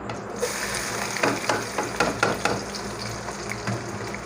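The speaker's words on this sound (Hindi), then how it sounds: "अब हम इसके अंदर मीडियम साइज़ की प्याज डालेंगे जो चॉप की थी।" Chopped medium onions fry in a pan while they are stirred, making a constant crackling sizzle broken by several quick scraping strokes close by.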